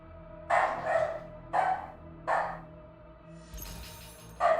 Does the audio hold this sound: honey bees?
no